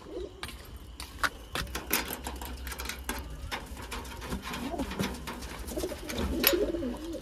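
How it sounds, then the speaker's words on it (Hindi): Young wild pigeons coo softly nearby while wings flap and rustle in quick bursts, with occasional light taps and shuffling throughout. "पहले पानी को यहाँ रखते हैं और कबूतरों को छोड़ते हैं।"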